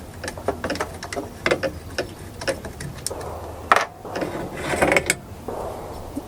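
The bolt is pulled from an AR-15 rifle chambered in 7.62x39. Close, light metallic clicks and rattles come in uneven bursts, with one sharper clack, and no voices.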